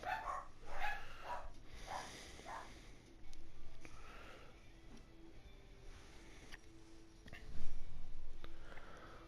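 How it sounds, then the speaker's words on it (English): A household dog barks in short bursts, fairly close but at moderate loudness, mixed with sniffs, snorts and an occasional yip, with some quieter background sound between the bursts. "My dogs will think that the house is under attack. And that we have to go and bark at everything."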